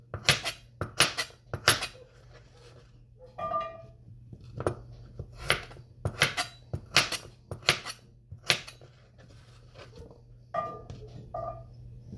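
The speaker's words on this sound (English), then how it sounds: "I'm going to just cut these into small pieces" Knife chopping butternut squash into small pieces on a cutting board in a home kitchen, a series of sharp, distinct taps in uneven rhythm with faint clinks of utensils between cuts.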